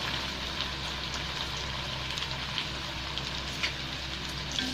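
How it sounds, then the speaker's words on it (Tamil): Marinated colocasia (taro) pieces fry in hot oil with a steady, even sizzle and faint crackles, close by and with no voices over it. "இப்போ நம்ம அப்படியே அதை கொஞ்சம் அப்படியே பரவலாக எண்ணெயில் போட்டுக்கோங்க."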